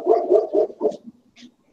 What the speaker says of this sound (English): Oh, you hear the dogs?